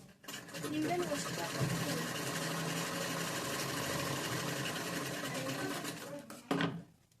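A sewing machine stitches the front and back sides of a chudi top together, whirring steadily and fairly loud for about six seconds before stopping abruptly.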